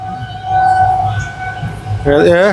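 A train rumbles steadily along with a low, continuous drone and faint tonal hum; a voice cuts in near the end.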